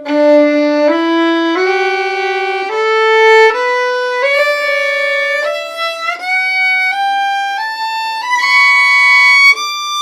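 A violin plays a slow, rising sequence of sustained fourth- and first-finger double stops, each pair of notes bowed together and shifting step by step, with no talking.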